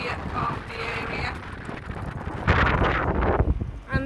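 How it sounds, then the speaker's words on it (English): Wind buffets the microphone at a beach in Isla Plana, Spain, a rough roaring rush that swells louder in the second half, with a voice talking underneath. "It's quite windy here"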